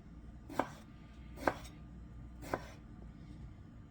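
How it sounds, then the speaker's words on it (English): A knife chops ground lamb and eggplant pasta ingredients on a board in three distinct, evenly spaced cuts, close and fairly quiet over a low kitchen hum. "as I continue chopping this up"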